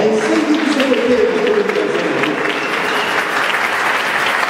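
A church congregation applauds loudly and steadily throughout, a dense continuous wash of clapping with voices mixed in.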